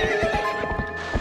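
A loud, close horse whinny from Epona rings out over rapid hoofbeats, brief and energetic, in Zelda: Twilight Princess.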